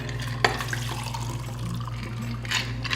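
A drink poured out through a simple strainer in a home kitchen, liquid trickling and splashing steadily with a brief sharp clink near the start, close and moderately loud under a low background hum.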